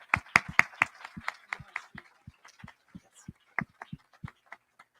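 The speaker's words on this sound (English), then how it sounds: "Please give them a huge round of applause." A small audience at a mental health advocacy event claps in sparse, separate, distinct hand claps that are busiest at first and then thin out to a few scattered claps before fading away.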